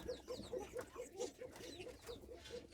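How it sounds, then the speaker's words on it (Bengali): A Bashiraj koka pigeon gives a rhythmic run of high, thin, evenly spaced cooing calls, about a dozen quick notes in under three seconds, faint and close over low background noise. "দেখবেন যে ডাকটা এমন চিকন কিনা, এমন উচ্চ কণ্ঠ কিনা এবং এমন ফাঁকা ফাঁকা করে ডাকে কিনা।"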